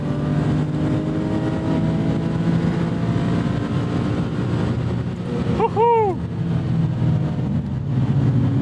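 A 1991 BMW M5 E34 engine drones loudly and steadily from inside the cabin, with a brief rising and falling whine near the end; a voice may be faintly present under the engine.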